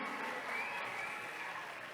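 An audience at a Mackenzie school and university event claps in steady, fairly faint applause that holds evenly throughout without any break.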